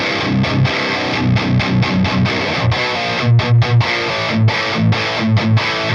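Heavily distorted high-gain electric guitar through a 6505 amp's red channel, chugging tight palm-muted riffs with sharp rhythmic stops, loud and up close, no talking.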